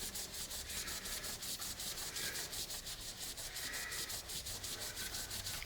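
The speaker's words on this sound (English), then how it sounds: "Rub, back and forth." A snakeskin pen is rubbed back and forth with denatured alcohol, giving a steady, rhythmic scrubbing swish that repeats evenly and fairly quietly, with no voices.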